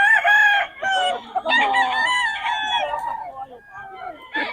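A 3.5-year-old Gold Sweater bloodline rooster crows loudly and close by in one long drawn-out call, with a short extra burst at the end.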